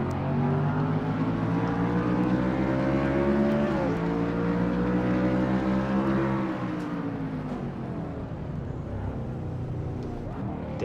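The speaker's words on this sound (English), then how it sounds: "Floors the throttle down now on her Thunderbird" A Thunderbird race car's engine roars steadily on board in a racing video game, pitch climbing through the gears with a shift dip, then easing off and building again into a sustained drone.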